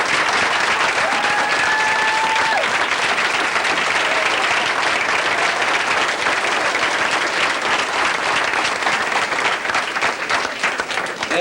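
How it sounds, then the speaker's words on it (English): Sustained, loud applause from a banquet crowd honoring a marching band's flag section, thick and continuous throughout, with a brief tone early on. "I think they need a hand of a round of applause."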